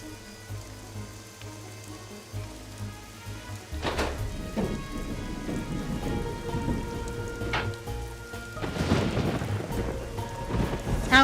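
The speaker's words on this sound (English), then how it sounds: "How convenient that there's a lightning storm." Thunderstorm from a Nancy Drew video game: steady heavy rain hiss throughout, broken by several loud rumbling thunder cracks that swell and roll, no voices.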